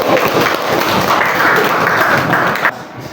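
A class of students claps together in a classroom, dense steady applause at close range that fades out at the end.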